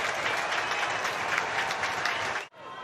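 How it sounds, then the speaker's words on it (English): Home crowd at a rugby stadium roaring and applauding to welcome Edinburgh for a URC season opener against Dragons: a dense, loud wall of cheering and clapping that drops sharply for a moment near the end, then picks up again. "Here comes the roar from the home crowd to welcome Edinburgh"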